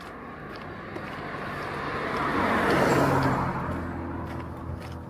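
A car approaches and passes on a road in Cholul, its tire and engine roar swelling from faint to a loud peak midway then easing off, heard from the roadside without talk.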